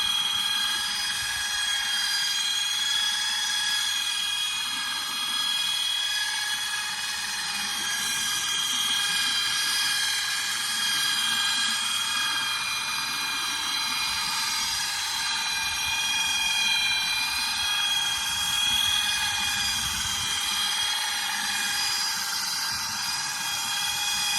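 A drill smoothing wood during table building holds a steady high-pitched motor whine with rough, uneven grinding underneath, running continuously at moderate loudness.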